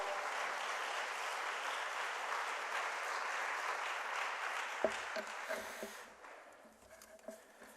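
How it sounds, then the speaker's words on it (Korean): A church congregation at a youth worship service gives a steady round of welcoming applause for a missionary, moderately distant and even, then dying away into scattered claps and quiet room noise. "우리 큰 박수로 할렐루야로 환영해 주시면 감사하겠습니다."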